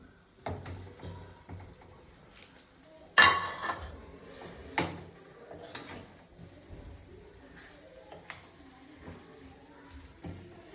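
Cooked chicken tipped into ghee roast masala in a pan and stirred, with a sharp metallic clank followed by scattered scraping and clinking of a spoon against the pan, close but fairly quiet, no talking.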